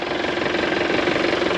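A vehicle engine idles just after starting on a road trip toward Sikkim, a steady mid-pitched rumble with slight rhythmic knocking, close and continuous without talk.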